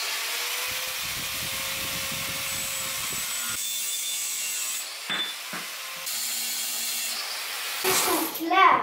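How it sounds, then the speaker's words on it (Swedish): A kick scooter handlebar being cut with a saw, steady rasping strokes under continuous background noise, then scraping and clunks of handling near the end. "nu har det blivit dags att kapa styret"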